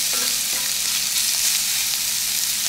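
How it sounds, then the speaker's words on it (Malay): Sliced mushrooms sizzle in a pan for a creamy mushroom pasta, a loud, steady frying hiss with occasional faint stirring clicks, close and with no talk. "Cendawan ni kita akan masak sehingga layu dan bertukar warna menjadi"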